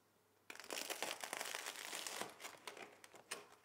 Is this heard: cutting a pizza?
yes